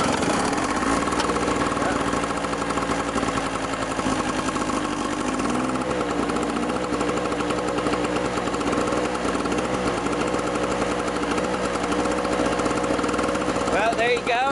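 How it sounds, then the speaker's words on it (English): A small gas hedge trimmer, powered by a compact generator, runs steadily while cutting back weeds, its buzzing engine drone continuous and fairly loud throughout, with brief rises in pitch as it bites into growth. "Here's our hedge trimmer we're just going to use as a test subject for cutting some of these weeds"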